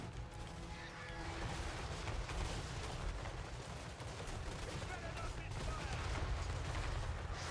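Massed gunfire volleys from an engineer-led gunline in the video game Total War Warhammer 3, a dense continuous crackle of shots over a low rumble, loud and sustained throughout, with battle noise layered underneath.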